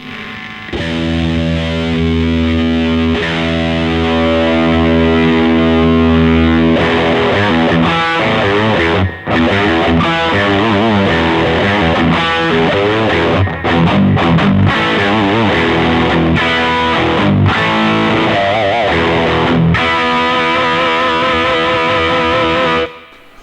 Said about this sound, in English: If we just play a note and then sweep the contour around